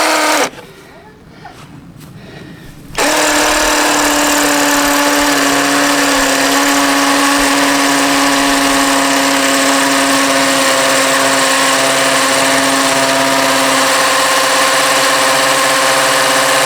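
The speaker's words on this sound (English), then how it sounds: "That's marked where I want to drill." A power drill whines steadily at close range as it bores into hard material, running loud and continuous for over ten seconds after a brief quieter start.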